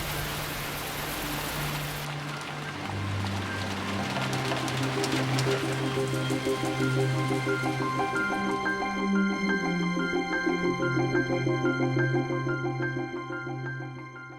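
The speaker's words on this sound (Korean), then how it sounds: "빗방울이 홀로 남겨진 교시의 몸을 사정없이 두들겨댔다." Heavy rain pours down steadily in a dense, continuous hiss during a thunderstorm in a historical Korean audiobook scene, with low rumbling tones and a sustained musical drone layered over the downpour.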